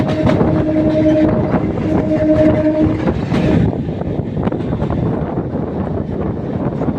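A local commuter train on the Kalyani to Budge Budge line runs along loudly, with a continuous rumble and rattle, a brief sustained horn tone early on, and wind buffeting the microphone.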